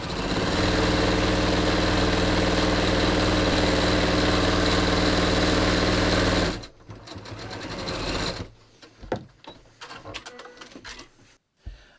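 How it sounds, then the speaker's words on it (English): A sewing machine runs steadily as it stitches fabric layers together at a half-inch seam for a non-stretch pants waistband, a loud continuous whir close by that stops partway through, leaving quieter handling noises. "I'm just sewing these layers together at a 1/2 inch"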